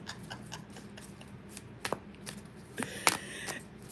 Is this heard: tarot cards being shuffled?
yes